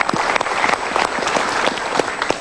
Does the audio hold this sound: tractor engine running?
no